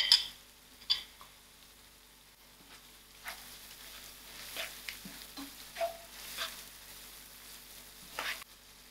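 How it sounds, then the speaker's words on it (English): Brinjal masala with seeds and jeera frying in a pan, a faint soft sizzle broken by occasional light clicks and stirring taps, quiet throughout with no voices. "Give this a good mix and allow this to fry for a few seconds."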